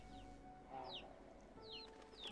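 A rooster in the video game Slime Rancher 2 gives a few quiet clucks and short chirps, soft and somewhat distant over a low ambient game background.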